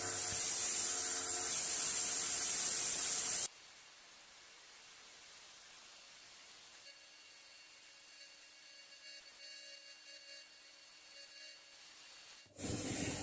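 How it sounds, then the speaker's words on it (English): Belt sander grinding pit marks off a metal pipe vice, a loud steady hiss for a few seconds, then a quieter whirring spin-down and faint workshop rattles before the sander bursts back on. "This wants belt sanding to get rid of all these little pit marks"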